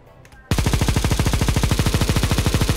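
Rapid, evenly spaced automatic fire from a Desert Eagle pistol held on the trigger in a video game, a loud, unbroken burst of sharp shots starting abruptly after a quiet moment.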